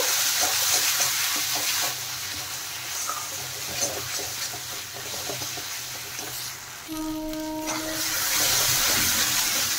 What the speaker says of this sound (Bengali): এখন নেড়ে চেড়ে সর্ষে ভালো করে কষিয়ে নেব।